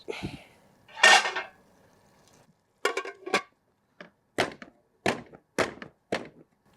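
Metal lid set onto a biryani pot topped with mint and melted ghee, giving a series of sharp clanks and thunks, one louder scrape early on, then several close, clipped knocks with quiet gaps between.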